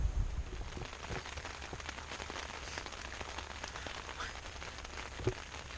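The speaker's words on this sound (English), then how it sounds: "whenever I camp it rains?" Steady broadband patter of rain falling on a tent at a lowland campsite between Serbia and Hungary, close and continuous with faint individual drop taps, no talking.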